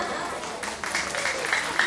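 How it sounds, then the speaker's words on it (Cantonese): Applause from a crowd at a care home's anniversary celebration, honouring kindergarten pupils and teachers after their dance performance: a steady, dense wash of clapping with a voice talking over it, lasting about two seconds. "不如我哋大家咧都再次俾多次熱烈嘅掌聲"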